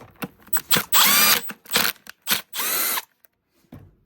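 Power tool driving bolts into the clutch cover of a KTM 300 two-stroke dirt bike, heard as several loud close bursts of whirring and ratcheting separated by short pauses, with a faint knock near the end.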